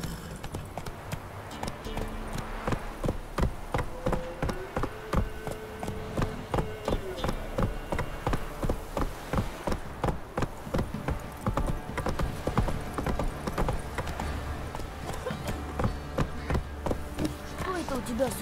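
Steady clip-clop of galloping horse hooves in The Witcher 3, rhythmic and continuous, with a brief whinny and game music layered underneath.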